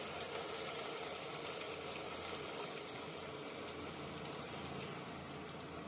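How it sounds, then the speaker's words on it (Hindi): A soft, steady stream of about a cup of water pours into a cooking pot of jackfruit curry, a continuous gentle splashing hiss at close range with no talking. "1 कप के करीब हम पानी इसमें डालेंगे"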